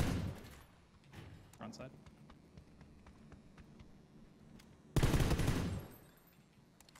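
Gunfire in PUBG, with a dense burst of shots near the end following scattered single cracks, while players talk over it.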